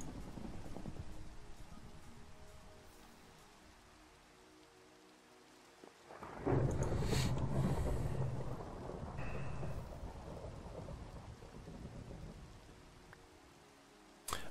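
Video game rainstorm with a continuous wash of rain, growing louder midway with a deep rumble of thunder, then easing back to a steady downpour.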